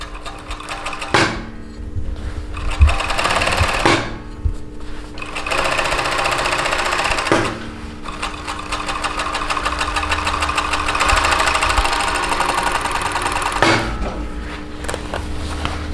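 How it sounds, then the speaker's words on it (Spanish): An overlock serger stitches fabric along a bound pocket seam, running in loud, steady whirring bursts separated by brief pauses as the fabric is repositioned. "nos ayuda para irnos guiando al estar cosiendo"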